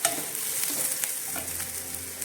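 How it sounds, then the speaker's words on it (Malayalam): Onions and garlic sauté in a hot pan for a jackfruit seed curry, giving a steady, close, hissing sizzle with faint crackles and no voices. "ഉള്ളിയൊക്കെ നന്നായിട്ട് വഴണ്ട് വന്നിട്ടുണ്ട്"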